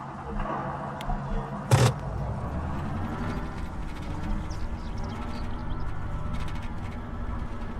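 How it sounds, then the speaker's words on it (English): Vehicle driving in the military video game ArmA3, a steady mid-pitched engine drone that holds level throughout, with a brief louder burst near the start and faint bird-like chirps above. "Conway, you're driving."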